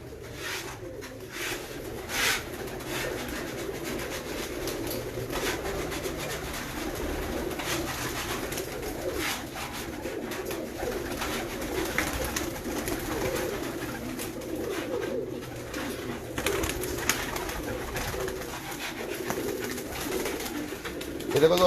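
Pigeons coo repeatedly in a loft, soft rolling calls overlapping at moderate distance against steady background noise.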